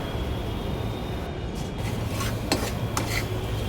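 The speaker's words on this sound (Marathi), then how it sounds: "आणि या भाज्या मी शिजवून घेतल्या होत्या, त्या थोड्या आता मी स्मॅशरने मॅश करून घेते" Cooked vegetables for pav bhaji being mashed with a hand masher in a pan, heard as a few light metallic clanks and taps over a steady low background hum.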